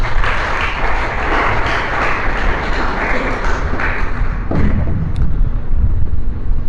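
Applause from a congregation at a religious teaching session, a dense, sustained wash of many hands clapping close and loud for several seconds, easing slightly toward the end with a few scattered claps.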